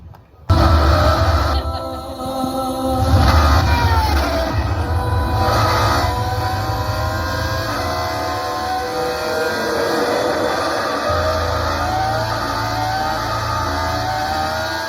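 A McLaren Solus GT with a V10 engine roars at its world unveiling, with a loud sustained engine note and rising revs that hold for several seconds before settling into a strong steady drone.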